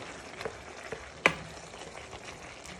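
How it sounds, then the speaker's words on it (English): Smoky bacon frying with mince in a pan for spaghetti bolognese: a steady, soft sizzle broken by a single sharp clink of a utensil midway and a few lighter stirring scrapes, with no talking. "Now you want to add in your smoky bacon to your mince. You want to fry this with your mince."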